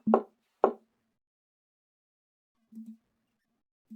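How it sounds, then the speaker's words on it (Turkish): Knocking on a door in a video game: two sharp, close knocks, followed by faint soft thumps. "Kapıyı tıkla. tıklıyorum."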